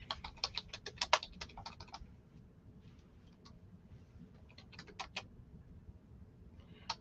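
Someone types on a computer keyboard in quick bursts of close, light clicks, with pauses and scattered keystrokes between the flurries.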